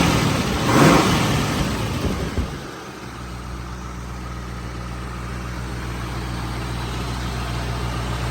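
A 1968 Ford Mustang's 428 Cobra Jet V8 with factory exhaust revs up with a roar, then drops back to a deep, steady idle rumble, close by.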